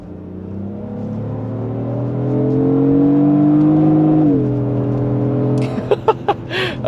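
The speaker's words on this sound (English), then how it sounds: "I'm curious if we can downshift this thing in Sport Plus." Lexus GX 550 SUV in Sport Plus mode with a steady engine and exhaust drone that climbs in pitch, then drops sharply as it downshifts, followed by a few short bursts near the end.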